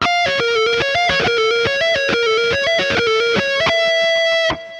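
A distorted electric guitar plays fast sweep-picked arpeggios, repeating cascading note patterns at a loud, steady level before stopping abruptly.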